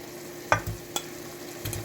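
Shrimp go into a hot pot: a few soft clinks and thuds of stirring over a quiet, steady sizzle, close and fairly faint.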